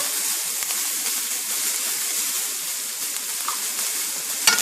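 Ground beef, browned and salted, sizzles steadily in a pan while it is stirred, giving a dense, even frying hiss at close range with a faint scrape near the end.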